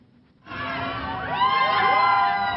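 Visitors on a Disneyland Paris ride burst into joyful screams and shrieks after a quiet moment, a crowd of overlapping high-pitched cries that swell louder and keep going.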